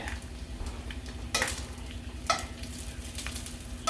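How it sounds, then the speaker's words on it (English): Bacon sizzles steadily in a skillet, a constant close frying hiss with a few sharper scrapes and clinks of a utensil against the pan, no voices. "So this bacon is done."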